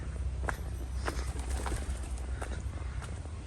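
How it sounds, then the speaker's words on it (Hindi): Birds call by a lake in a Japanese park in Tokyo, with short repeated chirps and coos scattered over a steady outdoor rumble, moderately faint and without talk. "परिंदे चहचहा रहे हैं"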